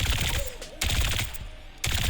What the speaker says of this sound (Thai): เสียงปืนดูเปลี่ยนไปนะ